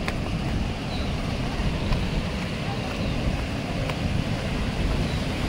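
Randha waterfall at Bhandardara running in heavy flood, a dense, steady roar of rushing water, loud and unbroken, with wind buffeting the microphone.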